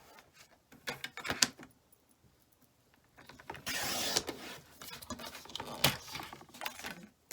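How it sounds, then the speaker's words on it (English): Cardstock being cut on a paper trimmer for a Stampin' Up Boho Indigo craft project, with scattered clicks and sliding mechanical rasps, including a longer slicing swipe midway, up close and fairly quiet. "So let's cut some cardstock up."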